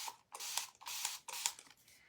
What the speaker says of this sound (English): I'm just spraying it with some water and see if I can soften that up a little bit.